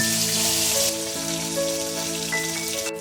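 Pieces of fish fry in hot oil in a kadai for a Bengali fish curry, giving a steady, close, rain-like sizzle with light crackle over soft background music and no talk.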